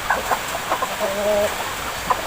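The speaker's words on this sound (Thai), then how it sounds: "พาดูไก่กินข้าว" Chickens eating rice cluck softly and intermittently up close, short pecking calls scattered over a low background hum.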